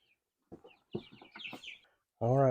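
Chickens cluck and squawk while being caught and carried to a new coop, short scattered calls building to a loud squawk at the end, with no talk over them.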